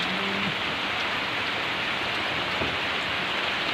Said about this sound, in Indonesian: Ya bah hujan kieu mah hujan awet